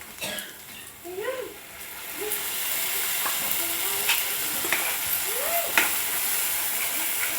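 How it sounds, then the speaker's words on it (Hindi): Ground masala tipped into ivy gourd and mint frying in oil, a dense continuous sizzle with a few spoon scrapes and clinks over it, a faint voice briefly near the start. "अब इसमें हम अपना मसाला डालेंगे।"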